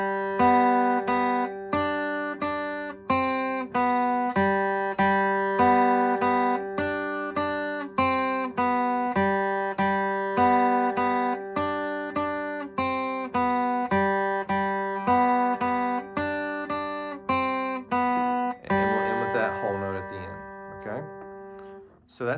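Electric guitar plays a rock riff with steady alternate picking, a long run of evenly spaced plucked notes in a repeating pattern, close and clear, ending in a brief noisy strum.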